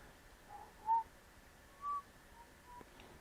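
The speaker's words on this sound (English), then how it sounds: "he looked over to where the whistling was coming from" A person whistles a tune, a few faint, short, clear notes spaced apart over a quiet background, with no talking.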